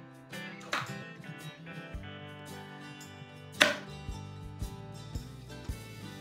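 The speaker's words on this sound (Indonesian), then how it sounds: "memotong good time-nya dulu." A knife chops through Good Time chocolate chip cookies on a cutting surface in a home kitchen, giving a series of crisp, irregular cutting knocks close by, with one sharper crack partway through and quiet between strokes.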